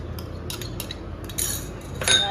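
A spoon clinks against a bowl while stirring yellow colour into Rajbhog mattho, a sweet strained-yogurt dessert; light, scattered metallic taps come close up, a few at a time, with a brighter cluster near the end.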